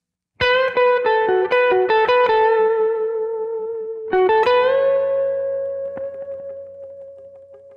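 An electric guitar plays a short slow-blues lick: a quick run of picked notes, a pause, then a bend and a long sustained note ringing out.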